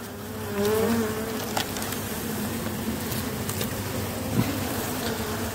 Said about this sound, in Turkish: zayıf arılar, bölme arılar bunlar.